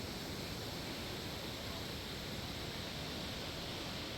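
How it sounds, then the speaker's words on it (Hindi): River water gushes under a rustic wooden bridge, a loud, continuous roaring rush that stays steady throughout, close by and with no other sounds over it. "look at the gushing water"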